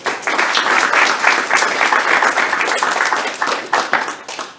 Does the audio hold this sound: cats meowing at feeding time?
no